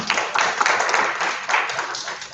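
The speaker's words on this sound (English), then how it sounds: "round of applause." Conference audience applauding after a participant's explanation at a kickoff session, a dense, steady wash of clapping that fills the whole stretch at moderate loudness with no talk over it.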